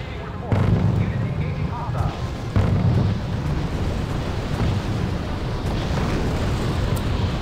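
A dense artillery bombardment in the strategy game R.U.S.E., rolling booms and rumbling explosions piling onto each other into a continuous roar, with a few sharper blasts standing out and a voice faintly underneath.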